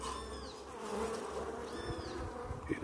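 Honeybees buzzing around an open hive colony that is preparing to swarm, a steady close drone with individual bees sweeping past the ear now and then.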